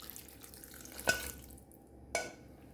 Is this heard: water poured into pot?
yes